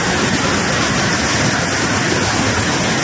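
A mountain-spring waterfall rushes on a rainy day, a loud, close, unbroken roar of falling water with no pauses and no voices.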